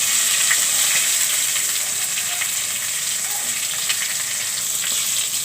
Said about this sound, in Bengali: ভালো করে এটা ভেজে নিচ্ছি।